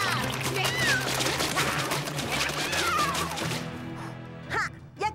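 A cartoon cat meows in a busy animated scene, its rising and falling cries heard twice over music and effects before the sound drops away, followed by a couple of short thumps.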